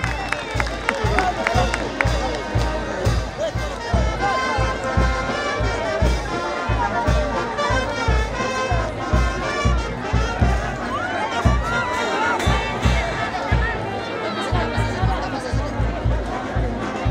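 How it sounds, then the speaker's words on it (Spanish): A bullfight crowd applauding and cheering the bullfighter, sustained clapping and shouting throughout with a continuous hubbub of voices and music-like tones underneath. "el aplauso por parte del público presente en señal de reconocimiento a la faena que cumple el torero"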